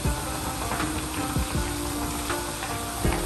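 Frozen dumplings frying in oil in a nonstick pan, giving a steady, close sizzle with a few crackling pops and no talking.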